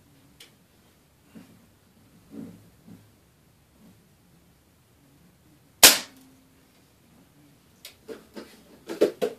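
An air gun fires a Daisy .22 wadcutter pellet with one sharp, loud crack midway through an otherwise quiet stretch, followed by a scatter of smaller clicks and ticks.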